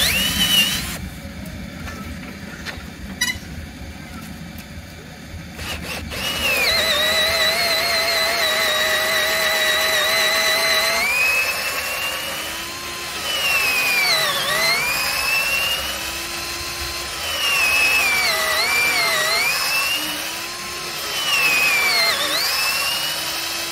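A Fujiyama 12V cordless drill runs at speed setting 1, its steady motor whine rising and dipping in pitch as it bores through material, loud and close with no talking over it.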